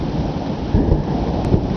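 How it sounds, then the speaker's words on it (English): Rolling thunder rumbles low and steady during a rainstorm, heard from a hammock, with a deeper swell partway through over continuous rain hiss. "There's the thunder."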